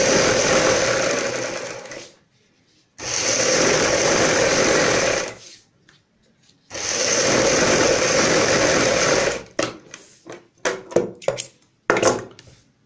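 A sewing machine stitches a salwar cuff layered with buckram, running in two long steady bursts, then several short stop-start runs, close and clear.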